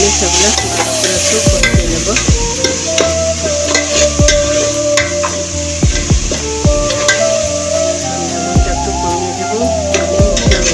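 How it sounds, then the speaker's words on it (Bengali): Spices frying with rohu fish in a pan, sizzling steadily while a spoon scrapes and stirs in repeated strokes, close and loud. Background music plays throughout. "আমি সেগুলো করে একটু কষিয়ে নেব ভালো করে কষিয়ে নেব"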